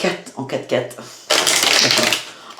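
Tarot cards are shuffled for a reading, first as a few quick separate flicks while someone speaks, then as a loud continuous riffle near the microphone.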